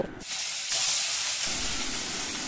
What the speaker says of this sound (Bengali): তেল দেওয়ার পরে মাছগুলো আমি একটু ভালো করে ভেজে নিচ্ছি